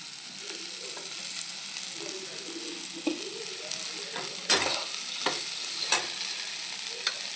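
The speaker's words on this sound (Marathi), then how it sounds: "व मग ही भेंडी टाकून घ्यायची आहे याच्यावर व ही अशी परतून घ्यायची आहे।" Okra frying with garlic in a pan gives a steady, soft sizzle, broken by a few sharp clinks and scrapes as a spatula stirs and tosses the pieces.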